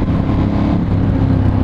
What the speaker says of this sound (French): Il y a le petit échappement qui veut dire pousse-toi.